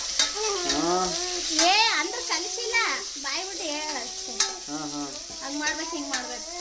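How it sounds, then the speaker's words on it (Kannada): Onions frying and sizzling in a pan with steady stirring, a continuous hiss under frequent talking voices nearby, including a child's, while mutton is cooked in a home kitchen. "ಈರುಳ್ಳಿ ಹಾಕ್ತಾ ಇದಾರೆ."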